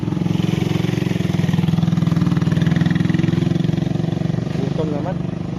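A motorcycle engine runs steadily close by, a continuous mid-pitched rumble heard throughout; people chat in the background over it.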